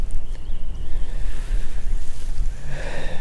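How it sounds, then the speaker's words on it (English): Strong cold wind buffets the microphone on a lake, with steady low rumbling gusts and faint water lapping against a boat being pushed along, continuous throughout with no talking. "That is all the wind."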